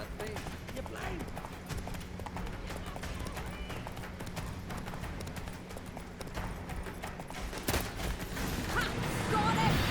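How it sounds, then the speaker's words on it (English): Horse galloping in the video game The Witcher 3: Wild Hunt, a steady rhythmic clip-clop of hooves running throughout, mixed with game effects and a voice speaking over it. "Grab a horse, we'll chase him down."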